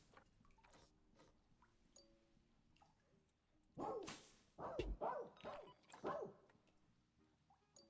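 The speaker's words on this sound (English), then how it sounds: "Sandcats bark?" Sand cat in the zoo-building game Planet Zoo giving a burst of about four sharp, bark-like calls in quick succession after quieter rustling and clicks, fairly close and clear.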